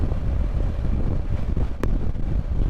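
Strong seaside wind buffeting a microphone at a coastal stop on a motorcycle trip, a continuous low rumbling roar with gusty fluctuations, close and loud, with no voices.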